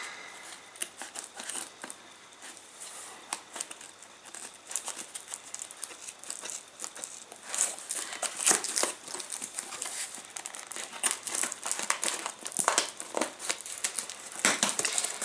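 A parcel being opened, its plastic packaging crinkling and crackling continuously at close range, the rustling growing denser and louder toward the end, with no talk.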